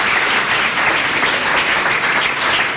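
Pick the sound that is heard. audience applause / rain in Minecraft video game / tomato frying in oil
audience applause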